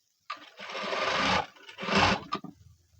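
A sewing machine stitching a blouse runs in two short bursts of rapid mechanical whirring, close and clear, with brief pauses and fabric handling between them.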